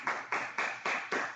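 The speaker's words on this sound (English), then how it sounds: "Let's just give them a round of applause for everything that they do for us." Five evenly spaced, faint claps in a steady rhythm at a school district convocation, each crisp hit fading before the next, with no voices.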